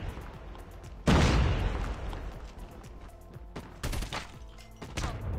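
Bursts of automatic fire from an RPD light machine gun in the mobile shooter Call of Duty Mobile, a loud rattling volley with a booming onset, then further short bursts and scattered shots.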